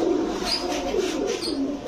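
Pigeons at a pigeon shop, including a female Satchila, give soft, low continuous cooing that rolls on steadily close by, with no talk over it.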